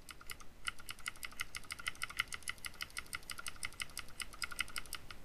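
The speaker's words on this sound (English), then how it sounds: "I can use the up and down arrow keys" Arrow keys on a computer keyboard are pressed up and down in a quick, steady run of light clicks, close and fairly faint, with no voices.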